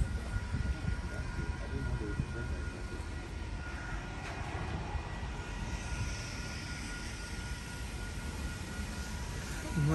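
A train idling at a platform, a steady low rumble and engine drone filling the scene throughout, close by and continuous with no talk.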